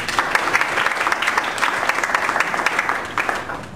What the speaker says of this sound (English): A round of applause for Linda as she joins us.